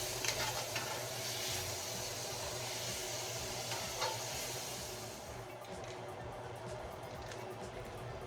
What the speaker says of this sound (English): I deglaze the pan with just a little bit of white wine